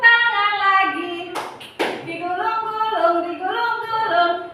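A couple of sharp hand claps sound in quick succession midway through a children's action song, set between stretches of sung melody from a voice.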